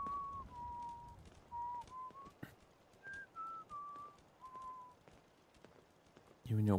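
A melodic whistled tune from a Fallout 4 game character in short phrases, fairly clear over a soft background with light footsteps, ending with a louder thump.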